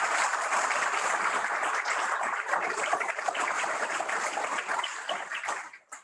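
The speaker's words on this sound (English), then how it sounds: "one more round of applause" A large audience applauds at an engineering school ceremony at The Citadel, a dense, steady wash of clapping that holds at full strength for several seconds before tapering off at the end.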